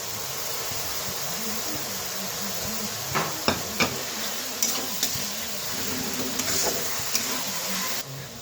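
Loitta dried fish, a Bengali shutki, fries in a pan with a steady broadband sizzle and hiss, a few sharp clicks and stirring scrapes near the middle, close and alone.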